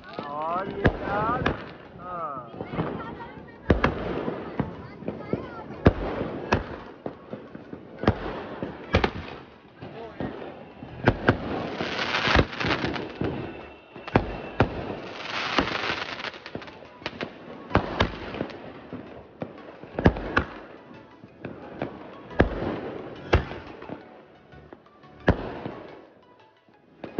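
Diwali fireworks and firecrackers bursting in a city, a long run of sharp repeated bangs and crackles at irregular intervals, some close and loud, with people talking and calling out between the blasts.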